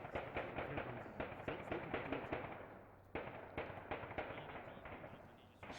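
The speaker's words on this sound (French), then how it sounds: "Les coups de feu reprennent au sein de l'ambassade." Repeated sharp shots at the French embassy during an armed attack involving special forces, a rapid irregular series of cracks with occasional louder reports, fairly distant and reverberant, with faint voices in the background.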